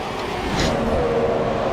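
Two Ferrari Formula 1 cars racing in the video game F1 2017: a steady, close engine drone with a faint rising whine, continuous throughout with no talk.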